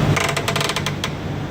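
Rapid dry clicks come from a drum brake adjuster as it is turned with a tool, a quick ratcheting run that slows and then stops, close and moderately loud with no talking.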